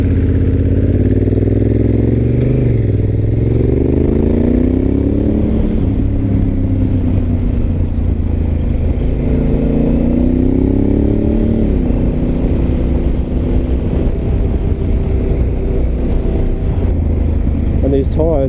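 A Honda Africa Twin motorcycle ridden on everyday roads, its engine droning loud and close throughout, the pitch rising and falling as the rider shifts and changes speed, with steady wind and road rush.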